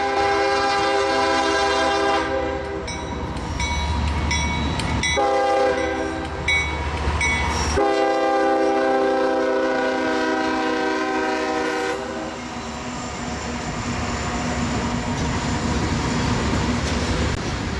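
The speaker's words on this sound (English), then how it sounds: "the Columbus sub lights up again, in the form of northbound coal train C501" A northbound coal freight train rumbles past close by on a curve in Marion, wheels clattering steadily, while its horn blasts several long, loud tones over the rolling noise.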